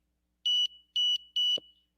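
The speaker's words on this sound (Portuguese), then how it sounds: "gerou o alarme. Eu tô botando... Eu botei só para um bipzinho, né, para cada minuto" An Arduino timer alarm gives three short, sharp electronic beeps in an even rhythm, clear and close against near silence, followed by a faint soft thud.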